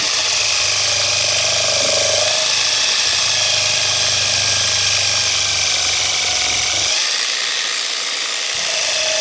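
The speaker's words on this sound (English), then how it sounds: "set your grinder on a low speed, or the polish goes everywhere just like that" A grinder runs at low speed polishing tarnished metal parts during a Land Rover Series 3 restoration, a steady close whirring with a higher rubbing hiss that cuts out near the end.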